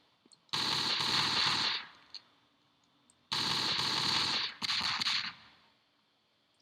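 Three bursts of rapid automatic gunfire from a weapon in the video game Marathon, loud and close: two long sustained volleys and a shorter, choppier one, with short quiet gaps between.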